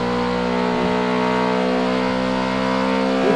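A car accelerating at high speed in the video game GTA RP, a loud, steady engine drone with a sustained revving tone that holds throughout, heard alone.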